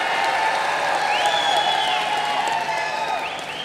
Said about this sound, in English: Round of applause for Chiranjeevi sir.